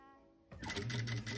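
A sewing machine stitches bias binding onto fabric, starting after a brief quiet lead-in with a close, rapid, pulsing mechanical whir that runs steadily to the end.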